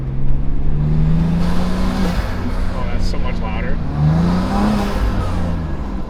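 A car with front-mount turbo intakes, a second intake on the far side, revs up and eases off. The engine drone rises and falls loudly and close, with talking over it.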